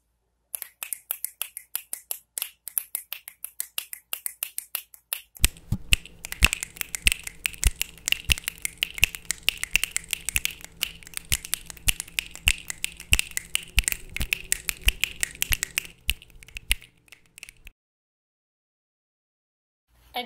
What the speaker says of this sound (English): So I'm recording the snaps of the whole audience.